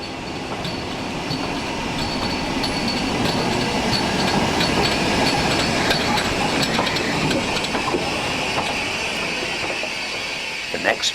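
Stanier Black Five steam locomotive 45407 detached from its train at the end of the line, a steady rumble of rail movement with metallic clanks and squeals, loud and continuous with faint voices underneath.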